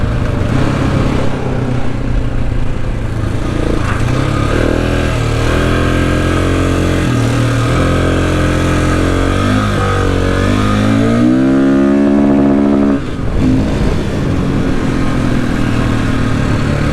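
A motorcycle engine on a Cape York trip in far north Australia revs hard and close, its pitch climbing steadily and holding loud at the rev limiter before dropping back to a steady idle.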